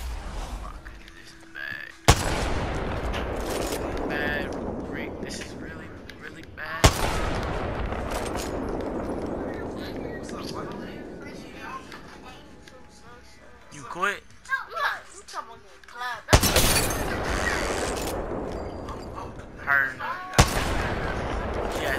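Heavy gunfire in the first-person shooter Apex Legends, sharp loud sniper shots including a Kraber landing every few seconds, each followed by long ringing decay, with a player talking between shots.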